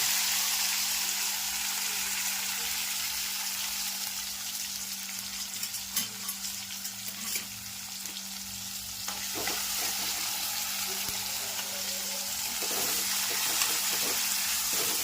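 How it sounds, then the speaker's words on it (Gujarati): Chopped tomatoes hit hot oil with mustard seeds, cumin and fenugreek powder in a tempering, producing a continuous loud sizzle with occasional stirring clinks and scrapes throughout. "સરસ મજાનો ટમેટાનો વઘાર થઈ ગયો છે."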